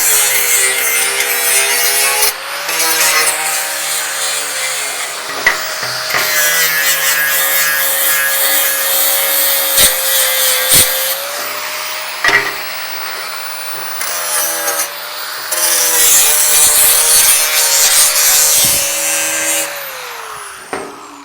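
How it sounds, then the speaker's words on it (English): Angle grinder fitted with a coarse sanding disc grinding a steel Flatfender front bumper, a loud continuous whining grind with shifting pitch and brief pauses as the disc is pressed and lifted. "I'm just using a sanding disc on my grinder"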